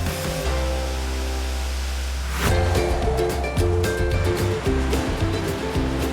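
Steady roaring rush of a roughly 400-foot waterfall in Maui, Hawaii, loud and continuous, with a brief quieter stretch before the full torrent swells in and stays constant.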